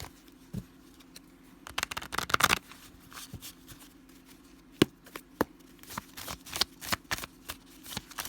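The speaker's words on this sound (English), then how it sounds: "And then we'll pull some tarot cards." Tarot deck shuffled by hand, with soft riffling and flicking card bursts, a louder flurry near the start, then scattered light taps and slides, close and quiet with no talking.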